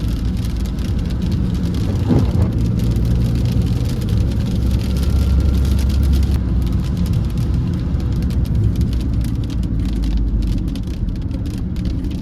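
A camper van drives along a narrow road in Italy in worsening weather, a steady low engine and road rumble filling the cabin with light rain-like hiss on top, with faint voices.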